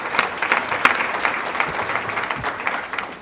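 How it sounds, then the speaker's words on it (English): An audience at a safe schools summit applauds a panel, a dense burst of clapping with a few sharper claps standing out, steady and fairly close for a few seconds. "Can we give a round of applause to our panel?"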